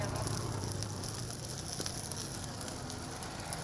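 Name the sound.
stone fish frying in oil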